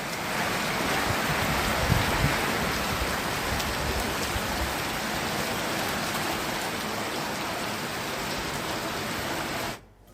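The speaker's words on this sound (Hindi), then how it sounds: "शहर में पिछले कई घंटों से लगातार हो रही बारिश ने ठंडक बढ़ा दी है" Continuous rain falling over Dehradun city, a dense even hiss of drops on surfaces that stays steady and loud before cutting off abruptly at the end.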